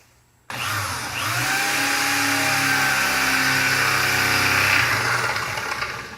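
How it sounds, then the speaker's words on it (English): A power drill bores through metal during a shuttle bus RV conversion seat swivel install, a loud, steady whine that starts suddenly and holds for about six seconds close by. "I'm going to go ahead and drill this through."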